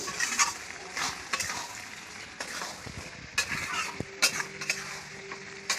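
Tomato masala for ghugni being stirred and fried in a pan, with a steady soft sizzle under repeated scraping strokes of a spoon against the metal, close and fairly quiet, no talking.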